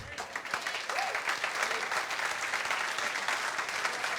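Sustained applause from a church congregation, a dense steady clatter of clapping hands that holds at an even level throughout.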